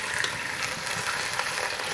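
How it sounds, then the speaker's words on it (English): Meat sizzles and sears loudly in a hot Ninja Foodi pot, a steady crackling hiss with no talking over it. "You can hear that sizzle."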